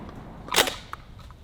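A single sharp DP-12 double-barrel shotgun blast fired at a pineapple target outdoors, loud and close, with a brief echo tail and a fainter follow-up crack shortly after.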